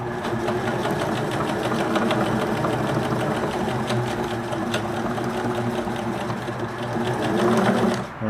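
A Singer Merritt 2404 sewing machine, freshly cleaned and oiled with its bobbin loaded, stitches steadily up close, a fast continuous mechanical whir with rhythmic needle clatter that runs without pause and swells slightly near the end.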